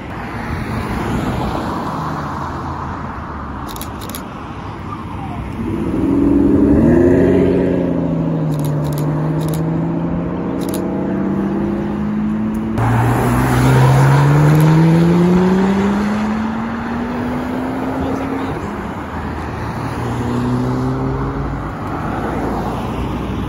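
A Porsche 992 Turbo sports car revving and driving past on a street, its engine note rising through several gear pulls as it approaches loudly and then fades, amid steady traffic background.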